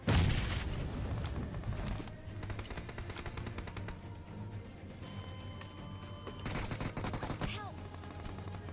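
Gunfire in the PUBG Mobile (BGMI) video game: repeated bursts of rapid shots and loud bangs over a busy background, with some talking mixed in.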